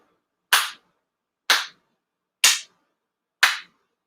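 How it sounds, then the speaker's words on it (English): Four crisp, sincere ritual hand claps at a Shinto memorial service ring out one second apart in near silence, each sharp and close with a short decay. "拝礼 4 sincere claps"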